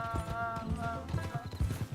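A donkey's hooves clip-clopping in the video game Red Dead Redemption 2: a steady, close rhythmic patter of hoofbeats, with a voice talking over it and a sustained musical tone behind.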